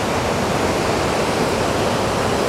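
Constant, dense roar of Vøringsfossen, a large waterfall in Norway, heard as steady loud rushing water with no pauses.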